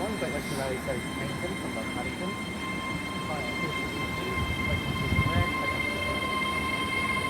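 A Class 802 train pulling out of Swindon station, a continuous loud rumble of wheels and engine with steady tonal whine and squeals, under someone speaking.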